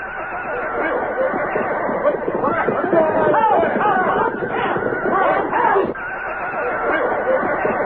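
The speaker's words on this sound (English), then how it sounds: "Then along toward dawn, there was an uproar of noise from the horses." A herd of horses whinny and neigh in a loud, continuous uproar at dawn, overlapping calls mixed with agitated commotion throughout.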